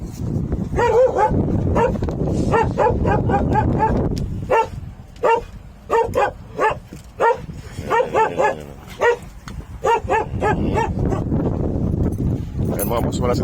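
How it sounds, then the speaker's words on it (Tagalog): Two dogs barking repeatedly in short bursts while chasing another dog, fairly close and loud, with someone talking over the barking at times. "Nandito yung dalawang aso. Nangahabol kay Scooby."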